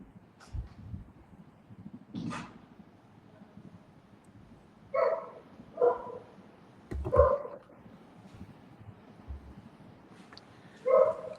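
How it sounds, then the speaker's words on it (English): A German Shepherd barks indoors after a doorbell, giving several separate barks in loose bursts at moderate distance, with quieter room noise and low rumble between them. "somebody rang the bell and my German Shepherd said he has to bark"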